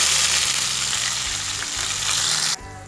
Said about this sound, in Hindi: अब हम इसमें 1 कटोरी प्याज का पेस्ट ऐड करेंगे